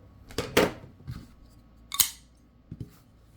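A Kizer DLC Hawk folding knife snaps shut on its SnapEcho lock: a few sharp, close metallic clicks with brief quiet gaps between them, alone in a quiet room.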